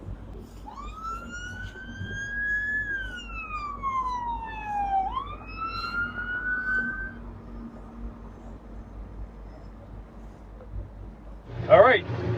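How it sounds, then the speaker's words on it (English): A police boat's siren wails on a busy Saturday river stretch, rising and falling in long sweeps over steady water and engine rumble, then cutting off, followed by a brief clatter near the end. "Got a police boat coming through."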